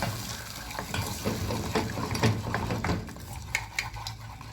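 Scrambled eggs stirred in a hot pan, a steady soft sizzle with irregular scraping and light clinks of a utensil against the pan, close and moderately loud with no talking.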